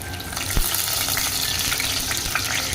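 Curry leaves crackle and sizzle in hot oil for a Maharashtrian tempering, a dense close spitting hiss with a sharp pop near the start, no voices.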